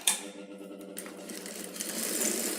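A sewing machine stitching a joint on a boat neck blouse of transparent net fabric, a close rapid mechanical whirring and clatter that runs steadily with no voices.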